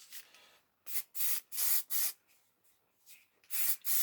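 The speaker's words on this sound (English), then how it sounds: "I've just sprayed that onto some white paper" A spray can of fast-drying metallic paint is sprayed onto white paper in several short, close hissing bursts, with quiet gaps between them and no talk.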